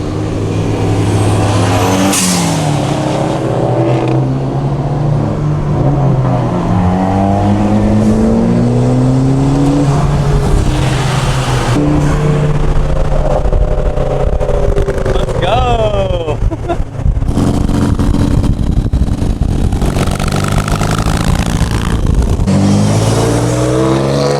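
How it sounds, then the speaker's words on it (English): Inside a car driving in a caravan with a Mitsubishi Lancer Evolution I following, engine drone rises and falls through repeated revving gear changes and acceleration sweeps, steady and loud throughout, with occasional voices in the cabin. "So it's a nice little caravan here, Evo 1 behind us."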